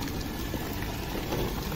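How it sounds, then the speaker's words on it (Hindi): Water streams steadily from a spout fitted into a natural water source at Markundi in Sonbhadra, Uttar Pradesh, a close, continuous splashing gush with no talk. "दिमाग लगा के लोगों ने इसमें टोटी लगा दिया है और यहाँ पानी गिरता रहे"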